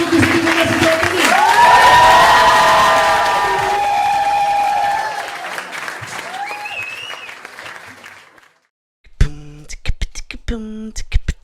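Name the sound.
audience applauding a stand-up comedian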